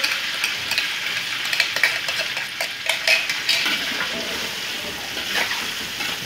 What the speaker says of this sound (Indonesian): lalu diaduk-aduk teman-teman biar lebih merata antara bawang, bumbu-bumbunya, bawang merah, bawang putih, dan cabenya meresap